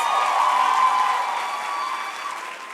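Dense audience applause fills the opening ceremony of a national arts festival, a steady wash of many hands clapping at full strength with no voices over it, easing slightly toward the end.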